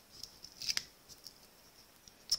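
Scissors snipping a small piece off a paper strip for a shaker card, a few faint, crisp clicks and a quick snip, quiet and close.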